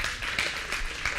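A church congregation applauding, producing a dense, steady wash of many hands clapping at moderate volume throughout the brief moment, with no clear voices.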